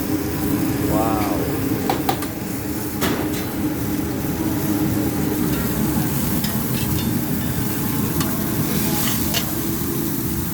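A whole chicken sizzles loudly in a pan, a dense continuous frying hiss broken by occasional clanks of stirring, with a voice speaking over it.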